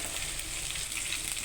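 Garlic paste fries in a pan with a steady, close sizzle that never lets up, no voices over it.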